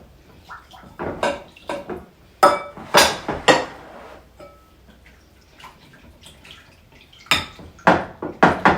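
A spoon scrapes and clinks against a dish while mustard is stirred into a sausage Reuben casserole mixture, in irregular bursts of clattering with pauses between them.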